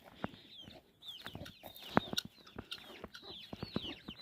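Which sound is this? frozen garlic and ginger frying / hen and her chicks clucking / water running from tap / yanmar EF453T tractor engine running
hen and her chicks clucking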